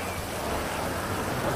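Steady rain falling in a Malaysian-set GTA video game, a dense, even hiss with low rumbling underneath that holds level throughout, close and continuous with no voices over it.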